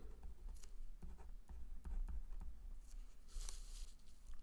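Pen or marker writing out an algebra definition on a board or paper, a steady scratchy stroking that goes on with short pauses between words, fairly close and moderately quiet, with no talking.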